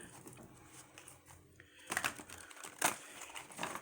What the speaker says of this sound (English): So you can see I'm shuffling,